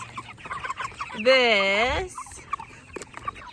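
Chickens clucking and squawking as they are fed, with one loud, drawn-out rooster-like call standing out in the middle over softer scattered clucks and rustling, and a brief word of speech.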